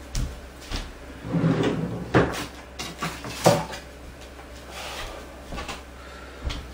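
A drawer is opened and shut to take out a set square, with wooden knocks, rattling contents and a few sharp clunks spread over several seconds, close by and with no voices.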